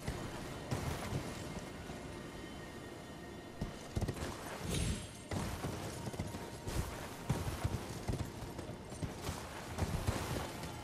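Horse hooves clip-clop in the Elden Ring video game, a mounted knight's steady rhythmic thuds close by against a constant rumbling game backdrop, with occasional sharper impacts.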